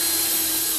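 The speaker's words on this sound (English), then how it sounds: "Set the drill on high speed." A power drill running at high speed, boring holes for a workshop nozzle rack, gives a steady, continuous high-pitched whine close by with no pauses.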